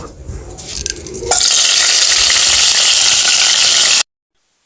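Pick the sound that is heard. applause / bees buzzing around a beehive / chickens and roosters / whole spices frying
whole spices frying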